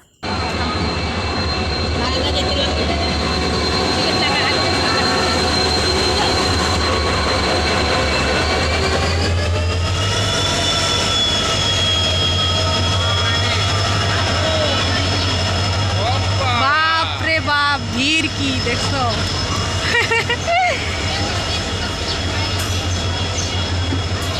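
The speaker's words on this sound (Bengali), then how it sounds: "ফাইনালি ট্রেন আসলো" A train rolls in with a loud, steady roar and rising tonal whine, followed by squealing wheels as it slows, with voices faintly underneath.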